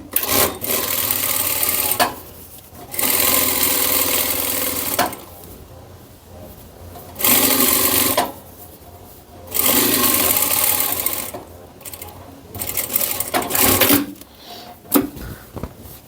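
Sewing machine stitching a fabric tote bag in several bursts of a few seconds each, a steady close whirring hum with short quiet pauses between runs.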